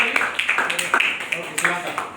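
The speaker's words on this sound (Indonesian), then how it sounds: "tepuk tangan untuk si" High school students in a classroom clap in a quick, fairly regular rhythm of sharp, close claps, with voices mixed in among them.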